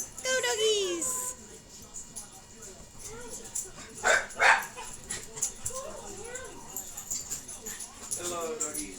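Two dogs yip, whimper and bark in short bursts at moderate distance, with people talking and cheering over them.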